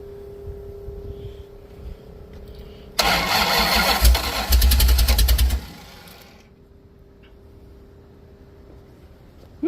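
A big block 440 V8 in a Cushman build fires for the first time: a loud, broadband roar bursts in after a low idle rumble, holds for about three seconds, then drops back to a steady idle with a faint hum.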